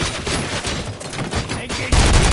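Rapid, loud gunfire from the RoboCop video game, a dense continuous fusillade of shots that builds into an even heavier burst near the end.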